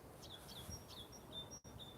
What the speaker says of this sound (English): Does anybody know what that bird song is?